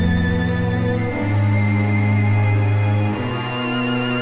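A sustained suspense chord from a Scaler plugin chord set rings out alone, held steady with a shift to a new voicing partway through, bright overtones sitting above a full low bass note.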